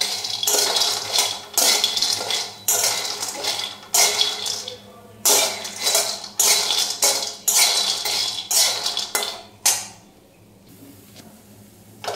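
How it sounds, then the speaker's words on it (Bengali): Lentil dumplings (bori) fry in mustard oil in a pan, giving loud bursts of sizzling and clattering as a utensil stirs them, with brief quieter pauses between the bursts. "সর্ষের তেল দিয়ে বড়িটাকে ভালো করে ভেজে নেবো"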